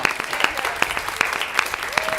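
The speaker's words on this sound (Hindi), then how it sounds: "तालियों से स्वागत करेगा" Audience applause at a kavi sammelan poetry recital in Gwalior on Balidan Diwas: a steady, full crowd of hands clapping, with sharper individual claps cutting through at a regular rhythm throughout.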